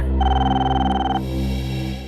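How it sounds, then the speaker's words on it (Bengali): A telephone rings loudly and steadily close by, one sustained electronic bell tone that breaks off partway and continues more faintly over a low hum, with no talking. "আমি ফোন ধরছি।"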